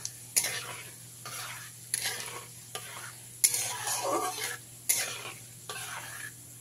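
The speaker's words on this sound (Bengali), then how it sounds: "5 ফোড়নটা দিয়ে ভাজা ভাজা করে নিতে হবে।" Panch phoron spices fry in hot mustard oil in a pan for raw mango pickle, a soft sizzle broken by repeated sharp scrapes of a spoon stirring in a steady rhythm, with no talking.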